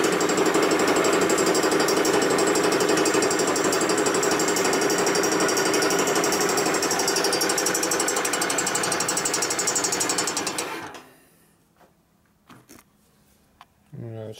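Milling cutter machining the edge of a 1958–1960 Harley panhead cylinder head under restoration, a loud continuous chattering whine for about ten seconds that cuts off abruptly, followed by quiet shop sounds and a brief clank.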